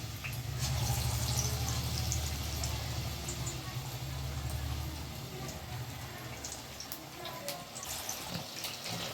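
Chicken pieces for chilli chicken sizzle in very hot oil, a dense continuous hiss with a low steady hum beneath, loud at first and easing slightly toward the end.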